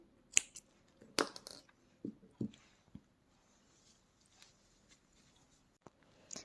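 Several sharp, close snips and clicks of scissors cutting yarn while knitting, scattered through a quiet stretch with long pauses between the cuts.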